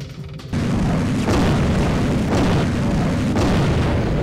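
Grenades detonate in the sci-fi shooter C-12: Final Resistance: heavy booms land roughly once a second over a thick, continuous roar of blast noise. The sound is loud and close, with no speech.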